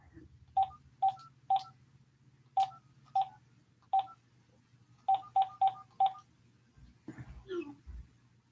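Touch-tone telephone keypad beeps dialing a call-in line, a string of crisp separate tones in two quick bursts over a low steady hum, followed by faint rustling.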